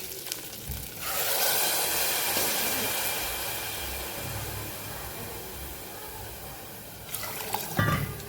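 Water poured into a pressure cooker holding rice for jeera rice, a steady, full rushing splash that runs for several seconds before stopping, close and alone.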